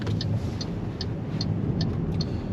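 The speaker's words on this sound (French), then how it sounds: "À noter le bruit très cheap des clignotants." Turn signal of an MG Marvel R electric SUV ticking at a steady rhythm, a thin, cheap-sounding click repeating about every 0.4 seconds over constant road and cabin noise while driving.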